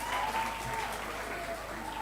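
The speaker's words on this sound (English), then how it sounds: "Can we clap for him once again?" An audience applauds steadily and evenly at a speaking event, with the clapping continuing at a consistent level from start to finish.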